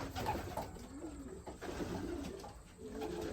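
Young racing pigeons coo in a low, soft, continuous burble, several birds close by in a loft, with faint rustling and no talk.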